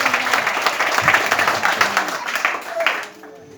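A church congregation applauds and acclaims Jesus, steady crowd clapping and cheering under voices that carry on throughout, then thinning out toward the end.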